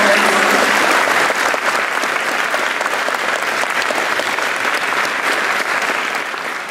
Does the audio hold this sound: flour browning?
no